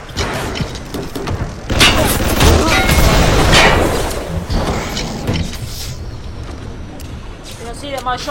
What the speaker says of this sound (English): You can see that my shotgun is fully upgraded